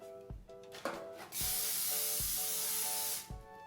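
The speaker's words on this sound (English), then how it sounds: "spraying our pan with some buttered flavored cooking spray" A steady aerosol hiss of butter-flavored cooking spray onto a disposable pan lasting about two seconds, close and fairly loud, with faint background music before and after.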